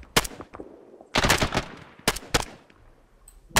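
Bursts of gunfire in a military video game, close and loud, a short volley followed by a longer automatic burst and a few spaced single shots, with no talking.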